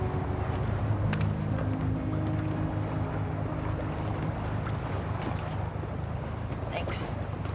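Steady engine drone and rushing water and wind of a boat underway, with voices talking faintly beneath the constant noise.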